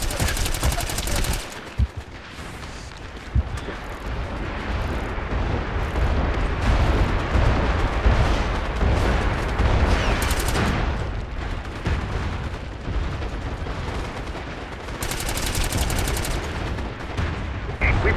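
Incoming artillery fire in the MAG shooter game: a dense, loud barrage of booms and crackling blasts rolls on without pause, with heavier heavy-hitting bursts standing out now and then.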